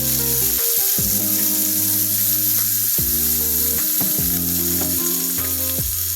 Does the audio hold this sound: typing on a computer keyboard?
no